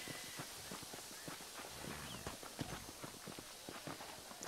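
Horse hooves clip-clop steadily at a walking pace in the Red Dead Redemption video game, close and rhythmic over a faint hissing ambient bed, with no talking.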